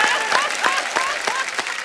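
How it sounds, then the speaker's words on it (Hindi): Applause from the studio audience of The Kapil Sharma Show, a dense steady clatter of many hands with a whistling voice-like tone gliding over it and cheering woven through. "एक बार दिनेश के लिए भी ताली हो जाए"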